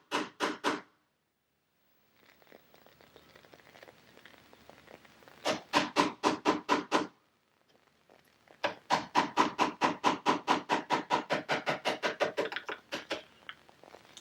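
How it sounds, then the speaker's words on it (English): A hammer drives a chisel to cut a deadbolt mortise in a wooden door. Sharp woody taps come close and clear in quick rhythmic runs, with short pauses and softer scraping between the bursts. "Good wrap with your chisel and your hammer."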